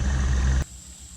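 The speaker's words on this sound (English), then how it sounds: "Guys will have to excuse the road noise." Road traffic rumbling on a bridge overhead above a small creek channel off the Ohio River, a heavy low droning pass that cuts off abruptly partway through, leaving a quieter faint hum.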